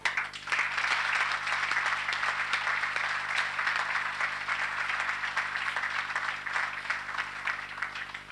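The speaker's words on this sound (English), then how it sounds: "I'd like to give them a round of applause" An audience applauds the Castlehaven team panel at a gathering following the 2003 senior county final, a sustained, even patter of many hands, somewhat distant and fairly quiet beneath a faint steady hum.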